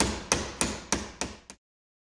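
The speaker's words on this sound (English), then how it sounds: "Just hammering it into place." Five sharp hammer blows driving a shaft into wood at a steady, even rhythm, close and loud, followed by silence.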